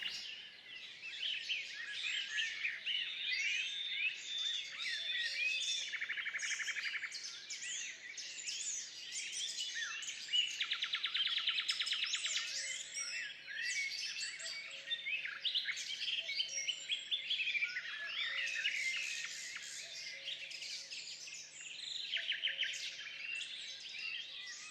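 Many birds chirp and sing continuously in a large garden estate, a dense, lively chorus of overlapping tweets and trills at moderate distance, with no voices present.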